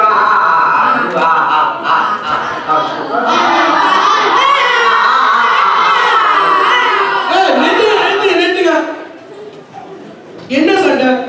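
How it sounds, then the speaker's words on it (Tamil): Children at a school annual day play shout and quarrel loudly all at once, a close, overlapping burst of young voices with chatter, briefly dropping off before another shout near the end. "என்ன சண்டை? என்ன இந்த கூச்சல்"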